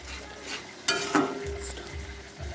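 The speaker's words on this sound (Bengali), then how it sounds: "এবার মশলাটাকে ভালো করে কষাবো যতক্ষণ না মশলা থেকে তেল ছাড়ে।" A spice masala with turmeric is stir-fried in oil for a spicy duck egg curry. A spoon scrapes sharply against the pan a couple of times over a soft, continuous sizzle, with no talking.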